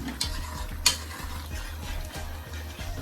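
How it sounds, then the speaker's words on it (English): Butter and ketchup being stirred into a pot of Jamaican-style brown stew chicken, with a steady low bubbling simmer, soft scraping stir strokes and a couple of sharp utensil clinks against the pot. "I'm just going to give that a stir. Just stir that in, guys."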